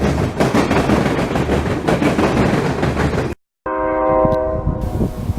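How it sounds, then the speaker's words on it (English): A coal freight train rumbles and clatters past at close range, then a loud horn blares in sustained tones. "Probably a coal train coming from West Virginia."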